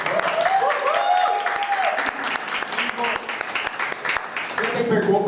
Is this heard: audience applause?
yes